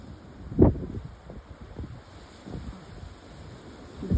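Wind blows over a boat at sea, a steady low rush with one sharp, close gust early on and softer buffets after.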